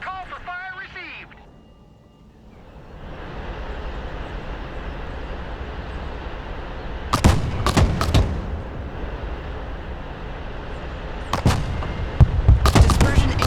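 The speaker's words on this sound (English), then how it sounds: "Mortar, ready to fire." Mortar fire in the PC war game Broken Arrow: a few sharp, loud launch blasts cut through a steady rumbling battle ambience, one pair near the middle and another cluster near the end, with a brief voice line at the start.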